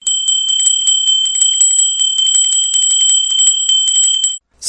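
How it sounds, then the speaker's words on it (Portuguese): A bright metallic notification bell rings in a rapid continuous jingle of repeated strikes, loud and close, then cuts off abruptly near the end. "Sininho tocou, é nova postagem que chegou"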